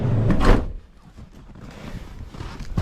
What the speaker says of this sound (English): we'll shut this door